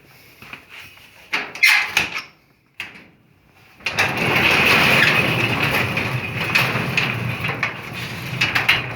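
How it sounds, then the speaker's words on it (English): A few clunks and scrapes, then a long mechanical rumble with a rattling grind as a garage door rolls open nearby. "let's just open the garage"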